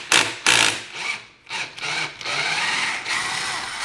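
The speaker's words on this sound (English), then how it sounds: "Here is the bolt that we do need to remove. 10 millimeter socket." A ratchet with a 10 mm socket working a swing arm bolt on an Evader, giving quick clicking bursts and rubbing metallic rasps in uneven strokes, close and fairly loud, with no speech.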